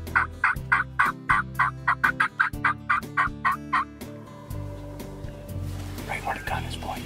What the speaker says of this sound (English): Megan, can you see the turkeys up on the cornfield?